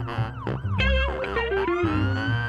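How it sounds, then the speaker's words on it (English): A police siren wails in sweeping up-and-down tones, loud and close, repeating several times over a steady low rumble. "I got it! A police car! Yay! Vroom vroom! Dee-doo-dee-doo-dee-doo!"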